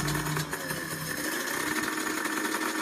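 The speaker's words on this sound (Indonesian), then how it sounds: "Oke, seperti itu motor 2 tak ya." Two-stroke motorcycle engine idling steadily, a continuous buzzing drone with a faint rattle, close and fairly loud with no talk over it.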